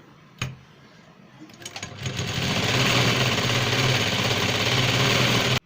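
A sewing machine stitches a canvas neck strip, starting with a sharp click and a few uneven bursts before settling into a loud, steady, buzzing run close by, then cutting off suddenly.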